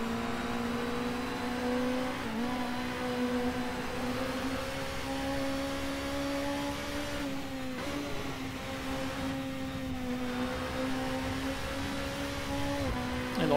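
A racing car's engine holds a steady, sustained whine as it drifts through a turn on a circuit, with brief dips and recoveries in pitch, loud and close throughout.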